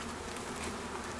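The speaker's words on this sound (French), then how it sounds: "on va faire descendre les abeilles" Honey bees at a beehive fill the air with a dense, continuous buzzing swarm, close and unbroken throughout.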